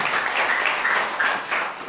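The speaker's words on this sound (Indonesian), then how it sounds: "Tepuk tangan terbaik dulu buat Tuhan Yesus Kristus." A church congregation bursts into applause, a dense continuous wash of many hands clapping that stays loud for a couple of seconds before tapering slightly at the end.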